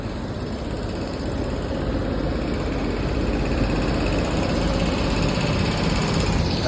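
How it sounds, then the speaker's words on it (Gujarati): A halted train's locomotive idles in Uttar Pradesh, giving a steady, loud, low diesel rumble with an even hum that holds unchanged from start to finish, with no talk over it. "આ છે ટ્રેનનું એન્જિન છે"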